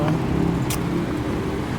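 A public passenger bus rumbles past on a street, a steady, fairly loud engine drone with a brief hiss partway through and no talking.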